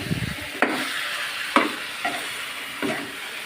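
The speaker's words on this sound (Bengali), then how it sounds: "সবগুলো একসাথে দিয়ে কষিয়ে নেব।" Chicken pieces and papaya with spices are stirred and fried in a pan, with a steady sizzle broken by several scraping stirs at irregular intervals, close and fairly loud with no one talking.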